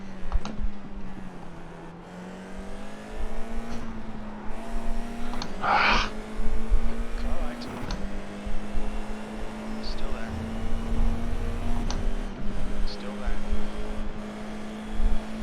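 An F4 race car engine in the iRacing game at Silverstone drones steadily throughout, its pitch sagging and climbing through gear changes, with a burst of squeal around six seconds and a voice talking over it.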